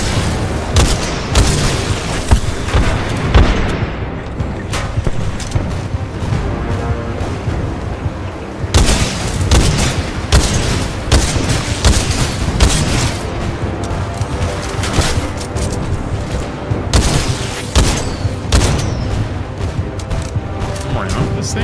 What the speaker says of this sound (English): Why am I getting shot at by a ship?